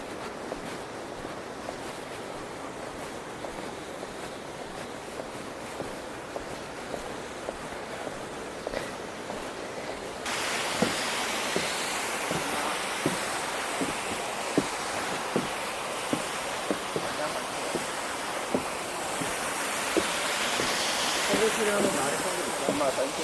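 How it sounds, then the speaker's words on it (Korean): Strong winter wind blows outdoors at a hotel in Jeju, a broad roaring rush that grows louder and gustier partway through, with faint voices underneath. "겁나 바람 많이 부는데?"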